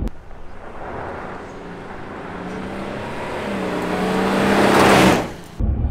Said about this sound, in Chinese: 会听到发动机的怒吼，但是当你啊 持续 踩下油门的时候呢，这个力量呢就会持续增加